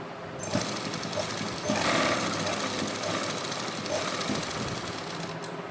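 A sewing machine runs steadily, stitching the corner of a suit, with a continuous rapid mechanical chatter and a brief pause partway through.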